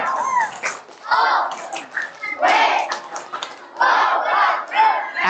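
A group of primary school children bursts into shouted chant bursts during a storytelling session, several loud collective cries in quick succession with pauses between, energetic and close, clapping blended into the shouting.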